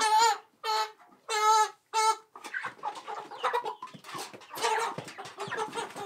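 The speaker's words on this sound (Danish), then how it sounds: "Jeg får overrakt en høne, som jeg kan bruge til middag." A hen being presented as a gift in Senegal clucks loudly up close in several rhythmic, drawn-out bursts, then gives rapid, busier clucking and squawks.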